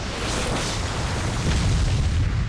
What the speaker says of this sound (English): Now Ichigo raging again here